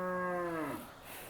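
A four-month-old Hallikar calf lets out a single clear moo, strong at first and then trailing off, heard close by with no talk over it.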